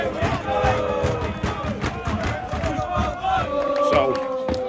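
Football crowd at a Southport versus Scunthorpe United match chants loudly and continuously before kick-off, a dense roar of many voices close by.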